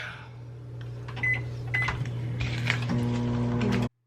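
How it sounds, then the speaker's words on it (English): A microwave oven hums steadily for about four seconds along with some clattering and rattling, then cuts off abruptly. "Pop it in the microwave for about a minute."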